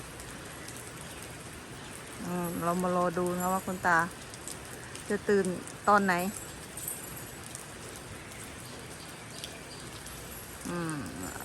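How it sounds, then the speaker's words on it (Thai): Light morning rain drizzles steadily in the background at an elephant shelter, a soft, constant patter, while someone talks over it. "ฝนตกรินรินด้วยนะคะ"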